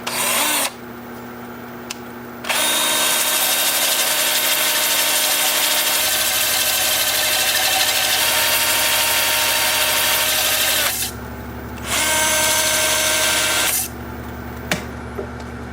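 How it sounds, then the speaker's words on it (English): A thin cedar bowl spinning in reverse on a wood lathe at 375 RPM is sanded with 80-grit paper, giving a loud, steady rasping whir that runs in long stretches, drops out briefly, then resumes. "Stand by for sanding."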